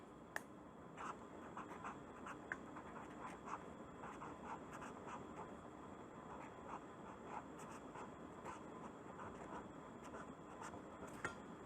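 A pen scratches steadily across paper while math notes are written out, with soft continuous strokes and a few sharper taps, quiet and close, with no talking.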